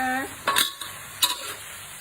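Mama instant noodles being stir-fried with Chinese cabbage, spatula scraping the pan in a few brief strokes over a faint steady sizzle, close and fairly quiet.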